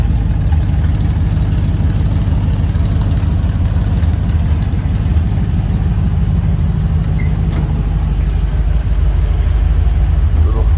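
A 1956 Ford F-100 idles through a newly fitted exhaust, giving a steady, loud, low mellow burble that holds evenly for the whole stretch with no talk over it.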